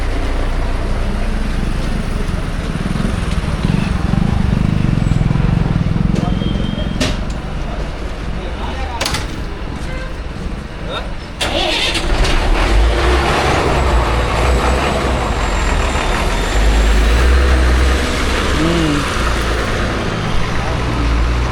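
A state transport bus pulls away at Sangameshwar bus station, its engine rumbling and rising under busy station noise, with a hiss of air brakes and other vehicles idling nearby; people talk in the background.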